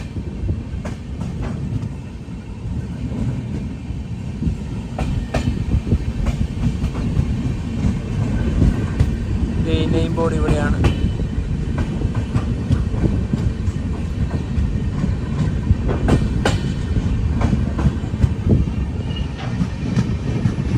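An LHB passenger train of Konkan Railway between Madgaon and Sawantwadi Road runs with a steady loud rumble and rhythmic wheel clatter. A voice speaks briefly partway through.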